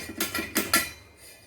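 A metal cooking pot clatters onto a kitchen stove, four or five close, bright clinks and knocks in quick succession, with no voices.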